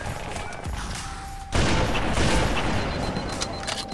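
Rocket explosions in Halo: Custom Edition boom loudly and back-to-back from about the midpoint on, a dense run of blasts layered over steady game noise.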